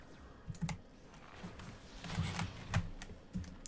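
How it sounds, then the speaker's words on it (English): Computer keyboard keys pressed at a gaming desk with no noise gate, a steady run of close, distinct clicks and taps in irregular bursts, alone without talk. "you can just hear every single mouse click, you could hear every key press"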